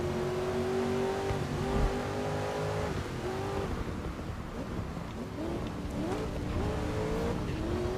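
Race cars in GRID Legends roar around a track, engines revving and shifting pitch as several cars jostle closely, with brief tyre squeals in a continuous loud racing mix.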